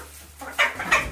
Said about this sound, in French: on a le coq et qui n'est pas tout seul, qui est accompagné de 3 poules froment doré bleu également.